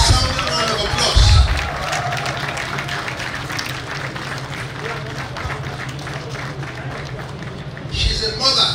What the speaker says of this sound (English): I want you to give them a resounding round of applause.